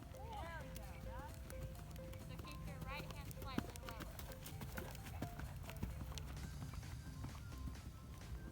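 A horse trots into a show jump, its hooves clip-clopping in a steady rhythm on the ground while a person talks over it and other horse sounds mix in.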